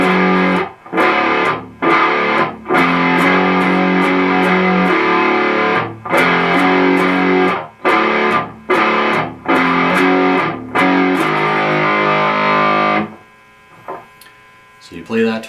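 Distorted electric guitar plays the riff slowly, with choppy palm-muted stabs and open notes in a loud, steady rhythm, then rings out into a faint sustained hum near the end.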